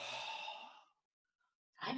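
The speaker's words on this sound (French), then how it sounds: "Respiration abdominale" Breathing during a yoga exercise in a kneeling position: a long, audible sighing exhale fading out, a pause of near silence, then the start of a fresh deep breath, close and fairly quiet.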